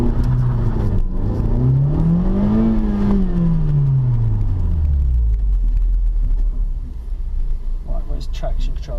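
Launch of a 2016 FK2 Honda Civic Type R, a loud engine revving up in a rising then falling sweep before settling into a lower rumble, with voices talking over it.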